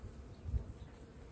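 Honey bees buzzing at a large, strong hive colony, a faint, steady low drone with a brief swell near the middle and no voices.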